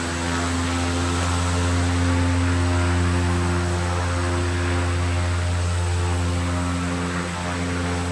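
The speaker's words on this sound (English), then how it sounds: "Here, for example, is one of the aircraft that's being tested." An aircraft engine under test runs at an airport with a loud, steady, droning roar and strong humming tones that hold without a break.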